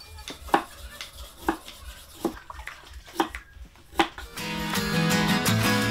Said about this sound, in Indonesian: Selesai dicuci bersih, potongan hubei dipotong lebih halus